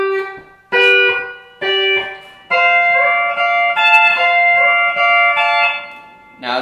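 Pedal steel guitar picks out a short phrase from the intro to a song, notes struck in pairs and then bending smoothly up in pitch as they sustain with the A pedal engaged.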